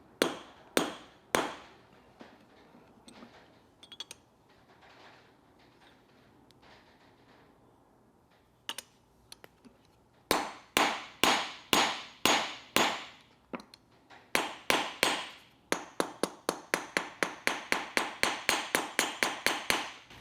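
Sharp metal hammer blows on copper rivets of a handmade copper coffee scoop, struck in quick bursts: a few spaced taps, a quieter pause, then a long run of loud, evenly paced strikes close up.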